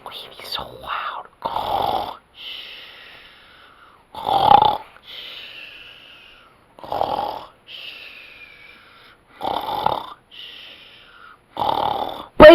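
Heavy snoring from a sleeper comes in steady, evenly spaced rasping breaths, each inhale a loud throaty snort followed by a softer exhale, close and alone.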